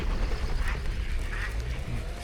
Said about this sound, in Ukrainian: Качки дикі, бо багато людей питають, чи їх є чиї качки